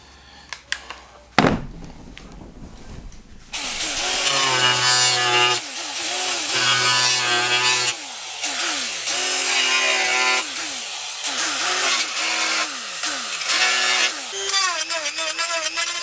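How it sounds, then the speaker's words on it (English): A power tool trims a modified GKTech mirror mount to fit an AE86. After a quiet start and a sharp click, a loud, continuous whining cut runs with rising and falling pitch sweeps through most of the stretch. "So right here, I need to trim some away."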